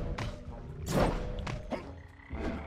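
Frogs croak in the Sly Cooper: Thieves in Time video game, several rough croaks rising and falling over a couple of seconds, fairly close and with no voices over them.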